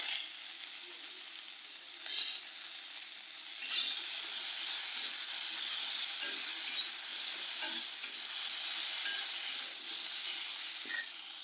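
Ginger paste with green chillies sizzles steadily in a pan for a vegetable curry, with scraping stirs and occasional bright crackles; close and continuous, no talking.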